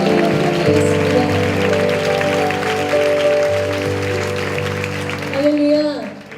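A church congregation claps together during a Korean youth worship service while sustained organ or keyboard chords play loudly. The clapping sits under the music and ends with a short rising tone.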